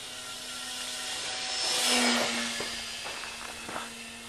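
A Skytrainer 400 model airplane's small glow engine runs at three-quarter throttle outdoors, a steady high-pitched buzzing whine that swells louder around the middle and eases off, with faint rustling nearby.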